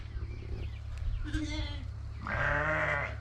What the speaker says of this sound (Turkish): Evet koyunumuzun sesini de duyuyorsunuz. Melemeye başladılar.